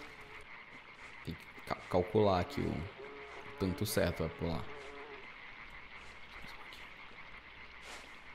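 Frogs croak in the dark forest of LIMBO, a cluster of croaks mixed with buzzing flies while someone talks over them.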